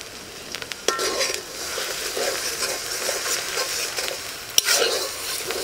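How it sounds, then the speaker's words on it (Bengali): Garlic paste hits a frying pan of onion paste in mustard oil for a country chicken curry, giving a steady close sizzle with scraping stirs and a few metallic clinks of spoon against pan. "এবার রসুন বাটা দেওয়া হচ্ছে।"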